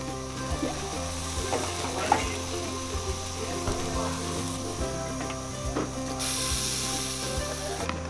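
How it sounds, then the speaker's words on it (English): Pork satay skewers grilling at an outdoor cooking class in Ubud, Bali, giving a steady sizzle and crackle with scattered mechanical clicks and clatter over a constant background hum. "This is where they are grilling the pork satay skewers that we just made."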